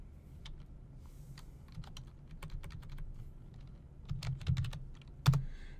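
Someone types a web address on a computer keyboard, quick irregular clicking keystrokes close by, sparse at first and then denser, ending with a firmer key press.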